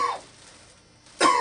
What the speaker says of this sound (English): could you give me 3 quick, strong coughs?